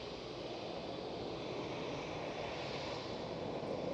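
An airliner departing Manchester Airport gives a steady, broad roar of engine noise that holds evenly throughout, fairly distant, with no voices over it.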